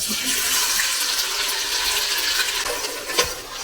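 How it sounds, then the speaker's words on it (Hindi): Chopped onions dropped into hot oil for kaleji (fried liver) begin a steady, close hiss of frying that holds throughout, with a few clinks of a utensil near the end. "ये तेल हमारा जो है वो गर्म हो गया है और इसमें अब हमने डाल देनी है ऑनियन"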